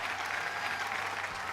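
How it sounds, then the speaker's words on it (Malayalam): A television game show studio audience claps in brief, steady, dense applause, moderately loud and with no voices on top. "മമ്മൂട്ടി ഫാൻസ് ഉണ്ടെങ്കിൽ നല്ലൊരു കൈയടി."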